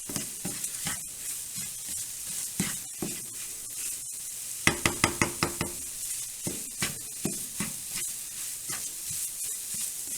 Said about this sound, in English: Make sure that the egg is cooked all the way through.